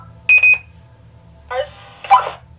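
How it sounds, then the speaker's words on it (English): A pair of short electronic beeps from a two-way radio, then a brief pause and two buzzy, crackling radio-style tones, fairly clear against a quiet hum, inside the Hinsdale House. "My radio is beeping."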